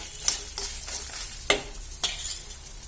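A spoon stirs salt, turmeric and asafoetida in a hot oiled pan, a soft steady sizzle punctuated by a few sharp scraping taps of the utensil against the pan.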